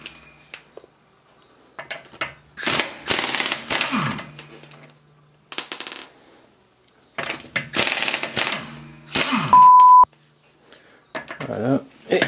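Wheel nuts, 17 mm, come off a 2000 Mercedes SLK 200 Kompressor with a power tool, in loud buzzing rattling bursts separated by pauses, with metallic clinks, a short beep and people talking nearby.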